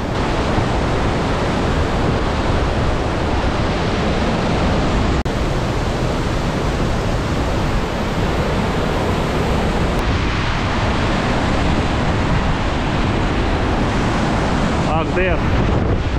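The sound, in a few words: powerful waterfall in Norway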